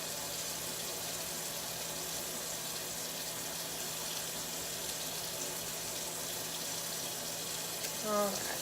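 Running water pours steadily from a tap as a Yorkie dog is rinsed during a bath, a constant close hiss of flowing water with no pauses.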